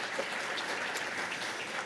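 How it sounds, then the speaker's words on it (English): An audience at a technical symposium claps for lightning talk presenters, dense, steady applause from a crowd filling the room throughout. "Can we give all of them a round of applause?"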